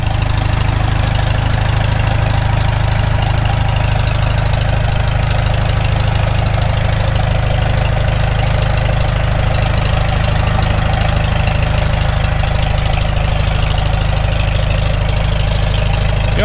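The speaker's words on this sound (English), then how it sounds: "that pump's doing something. Pushing against the relief." A rebuilt Farmall Super M tractor engine idling on its first start while its hydraulic pump pushes against the relief valve, producing a loud, constant low rumble with steady knocking pulses throughout, close by and without talking.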